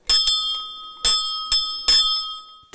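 A school bell rings to open the first day of the school year in Silesia, Poland, sounding as a loud, bright electric ring in about five sharp bursts of uneven length, with no talk over it.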